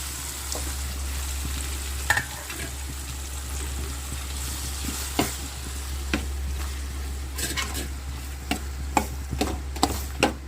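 Sliced onions browning lightly in a pan, a steady close sizzle with scattered sharp scrapes and clicks of stirring over a low constant hum, no voices.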